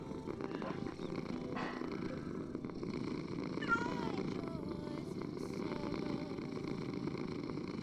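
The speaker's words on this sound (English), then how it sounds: "Purring kitty." A cat purrs in a steady low rumble that runs throughout, close and continuous, while a few faint higher sounds drift over it.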